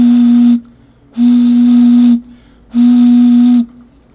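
Three hollow breathy tones from blowing across the mouth of a partly water-filled bottle, each about a second long, loud and close with short pauses between.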